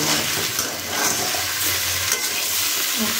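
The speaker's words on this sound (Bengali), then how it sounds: "এবার দিয়ে খুব ভালো করে নাড়াচাড়া করে নিচ্ছি, চিনিটাকে মিশিয়ে নেব" Suji being stirred with sugar and chopped coriander in a hot pan, a steady scraping sizzle that runs continuously without pause, close and moderately loud, with no voices.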